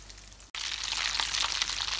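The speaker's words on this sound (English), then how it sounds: "Here they are, frying away beautifully." Smoked haddock Scotch eggs fry in hot oil with a steady, close sizzle and crackle that swells after a brief dropout near the start and continues alone.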